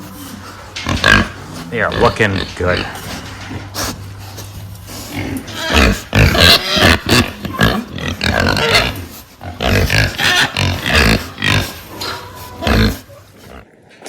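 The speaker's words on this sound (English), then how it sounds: "Yes, pig." Pigs in a barn grunt and snuffle close by, mixed throughout with a person talking to them, the grunts breaking through in short, uneven bursts.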